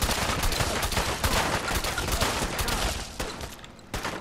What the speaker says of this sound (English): Let's just mash on the shotgun key for a bit here.